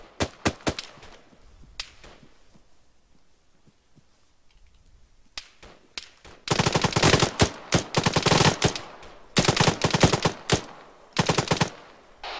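Bursts of automatic gunfire ring out in Arma 3 during a squad training exercise, with scattered single shots early on giving way to dense, loud volleys of rapid fire in repeated clusters.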